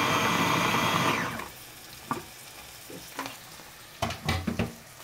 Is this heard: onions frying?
yes